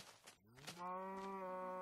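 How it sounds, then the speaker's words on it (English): A cow in the Minecraft video game gives one loud, close, drawn-out moo that swells after a few soft clicks and holds steady to the end. "Sounds like there's more than one cow."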